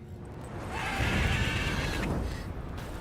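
A horse neighs in the Witcher 3 video game, a single drawn-out whinny rising and holding for about a second over a steady background bed, moderately loud and close.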